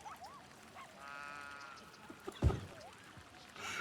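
Zoo bird honking in the Cities: Skylines city-building game, a few faint goose-like honks and calls over a soft ambient background, with a brief louder thump near the middle.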